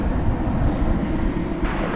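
American Airlines jet in Stand Up To Cancer livery, flight 1217 bound for Denver, at DFW Airport, a steady broad engine roar holding at even loudness throughout, close and continuous with no voices.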